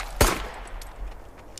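Gunfire in a shotgun-armed video game: one sharp, loud shot early on, followed by fainter scattered cracks and game ambience.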